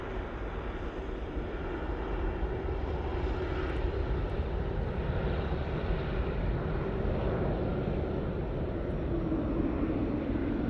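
An Emirates airliner lands at Manchester Airport with a steady, loud, broadband jet engine roar that holds without letup, heard from outside at the airfield.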